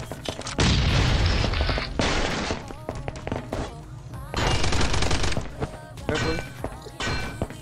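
Bomb explosions and gunfire during an online base raid in the survival game Last Island of Survival: heavy, loud blasts around the start and midway, broken up by rapid bursts of shots and thuds, with no voices.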